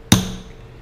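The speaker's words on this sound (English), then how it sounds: "mark these on the aluminum, just to give the drill tip something to grip" A single sharp metallic tap of a center punch lightly marking a hole position on aluminum, close and crisp with a short ringing decay, alone.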